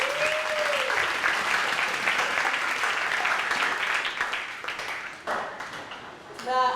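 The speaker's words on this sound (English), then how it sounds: "a big round of applause to the judges" A debate competition audience gives a big round of applause for the judges, with dense clapping that holds steady for several seconds before thinning out near the end.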